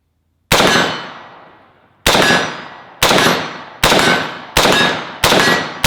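Six sharp, loud rifle shots from a BCM 14.5-inch SOCOM AR build fired at a 50-yard target outdoors, irregularly spaced with a long gap after the first, each followed by a decaying ring.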